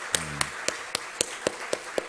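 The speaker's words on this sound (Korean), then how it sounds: "우리 이 아이들 위해서 박수 한번 쳤으면 좋겠습니다" A church congregation gives applause for a few children, heard as sparse, evenly spaced single claps, roughly one every quarter second, crisp and moderately near, with no talking over them.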